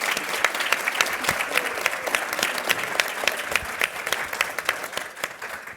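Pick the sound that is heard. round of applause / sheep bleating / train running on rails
round of applause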